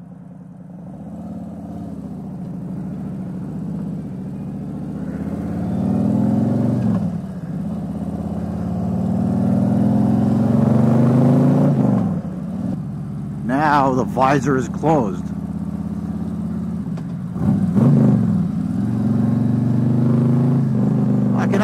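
A Harley-Davidson motorcycle's exhaust pipes rumble steadily during a ride, the low engine drone rising slightly as it goes, with someone talking over it and a few short vocal sounds breaking in.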